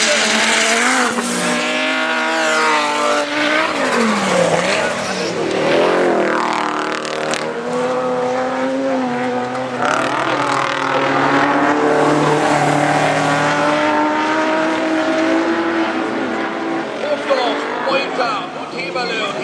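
Two BMWs and an Audi race around an autocross course at Mölln, engines revving hard and tires squealing through corners, with loud continuous motor noise under excited commentary.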